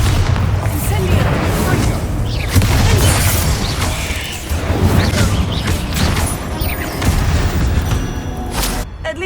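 A Bombarda blasting spell goes off amid a dense, loud din of booming impacts, crashing debris and magical effects inside a tomb in the Hogwarts Legacy video game, with voices calling out over the chaos.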